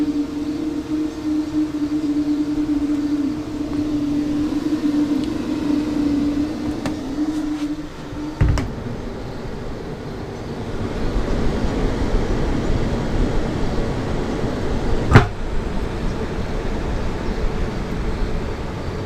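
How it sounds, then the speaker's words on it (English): Ventilation fans run steadily inside a closed cargo box on a car, a continuous mid-level whir with a hum that drops away partway through, a couple of brief knocks, then a broader, slightly louder airy rush. "the fans will come on"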